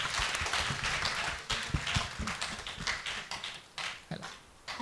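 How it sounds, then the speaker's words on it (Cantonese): An audience at a public lecture on epilepsy applauds a patient who has shared her story, giving a few seconds of uneven, moderate clapping that thins out toward the end. "可唔可以大家都俾啲掌聲俾佢啊？"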